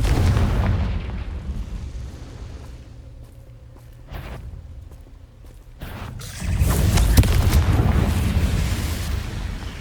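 A Confringo fire spell erupts in Hogwarts Legacy, a loud booming burst that fades into quieter rumble before a second strong blast swells and lingers, with no voices.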